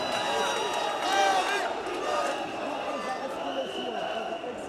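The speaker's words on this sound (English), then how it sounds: "Ladies and gentlemen, a big applause for these two athletes" Arena crowd at a kickboxing title fight claps and cheers in a steady, dense wash of applause throughout, with a ring announcer's amplified voice over the top.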